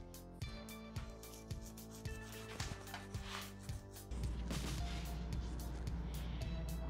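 A cloth with alcohol rubs grime off the base of a bicycle fork steer tube, making short repeated scrubbing strokes close up, then a steadier continuous rub toward the end.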